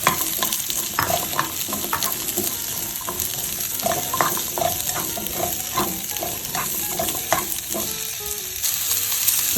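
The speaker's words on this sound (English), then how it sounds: "we're gonna saute down the shallot here first. With my chopped carrots," Shallot and chopped carrots sauté in a Staub roaster, giving a steady close sizzle with repeated scraping and stirring clicks throughout, no voices.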